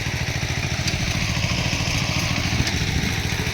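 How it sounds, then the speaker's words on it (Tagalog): A rotavator tills farm soil, its engine running in a steady, loud, close chugging drone with a fast rhythmic pulse throughout and no pauses. "gamit ang malalakay ang rotavator"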